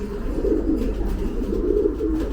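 Pigeons coo in a loft, low soft burbling calls repeating over a steady low background hum, close and fairly loud.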